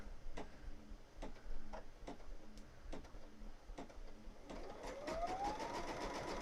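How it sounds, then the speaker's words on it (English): An embroidery machine sews a zigzag stitch around the edge of a leather patch for a beanie, with steady, evenly spaced mechanical ticks and clacks, close and moderately loud, and a faint rising whine near the end. "Now we're doing our zigzag stitch"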